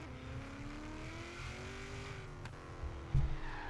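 A 1950s Corvette racing in Forza Horizon 3, its engine droning steadily as revs climb gradually, with a sharp thump and tire noise near the end.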